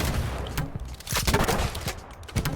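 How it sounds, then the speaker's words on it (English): Pro Pipe grenade launcher in Halo 5 fires a rapid series of sharp, punchy reports with booming impacts, several shots close together over a dense in-game soundscape. "this update also introduced the grenade launcher."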